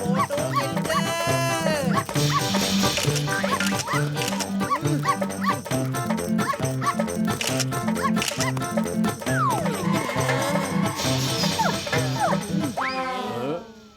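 A small cartoon puppy yaps and barks repeatedly in a busy animated scene, its sharp high yips and whimpers recurring over music and sound effects, loud and close.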